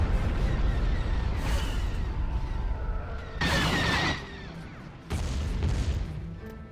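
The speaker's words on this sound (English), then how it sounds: "Oh, the bombardment's incoming, yeah." Artillery bombardment in a Star Wars strategy game, heard as a dense, continuous rumble with repeated heavy booming bursts, loud throughout and swelling in a few sharp surges.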